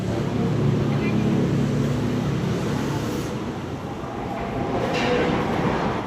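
Loud, steady rumble of a train rolling along the tracks, with a broad hissing roar that swells and eases slightly throughout, arriving at Bojonggede station in Bogor, Indonesia.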